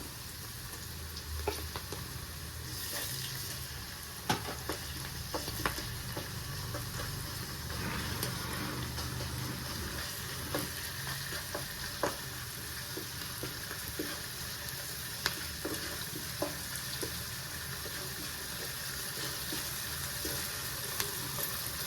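Cauliflower fries in a pan for gobi tomato curry with ginger-garlic paste, giving a steady, moderately quiet sizzle with occasional crackles and pops and a few faint stirring clicks throughout.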